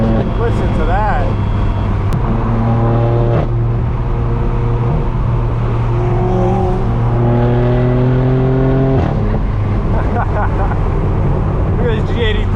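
Straight-piped BMW M4 F82 exhaust booming loudly and revving in rising, stepped pulls, with people talking over the engine throughout.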